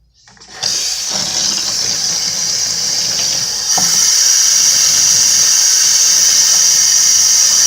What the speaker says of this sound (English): Let's get rid of this water and get some fresh water.